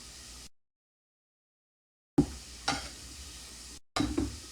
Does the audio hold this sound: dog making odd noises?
no